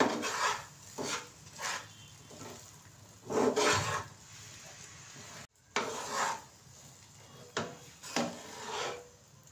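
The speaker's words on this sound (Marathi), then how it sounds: "आणि थोडंसं मिक्स करून घेते" Cardamom powder being mixed into mango barfi batter in a pan: a series of scraping, rubbing strokes with a spoon, close and moderately quiet, coming in irregular bursts with short pauses between.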